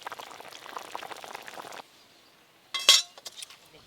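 Hilsa fish curry with tomatoes cooking in a pot, a steady bubbling and sizzling for the first couple of seconds, then a brief clatter of a utensil against the pot and a few light clinks.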